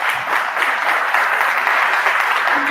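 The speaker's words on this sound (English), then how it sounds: "If y'all give him a round of applause for coming in today." An indoor audience at a Startup Waco event claps warmly for a visiting business coach, a dense, steady burst of applause heard close and alone, without voices.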